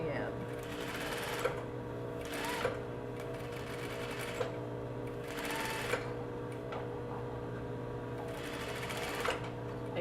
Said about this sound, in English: And then you sew all the way to the end.